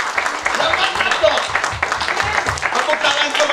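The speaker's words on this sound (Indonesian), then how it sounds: "Tepuk tangan untuk Tuhan Yesus Kristus." A church congregation claps along, a broad wash of applause with a rhythmic pulse underneath, moderately loud and steady, with voices mixed in.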